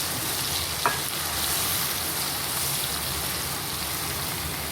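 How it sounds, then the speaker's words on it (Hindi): Garlic paste fries in a hot karahi, a close, steady crackling sizzle with one brief clink of a utensil near the start. "इसे थोड़ा सा फ्राई करेंगे।"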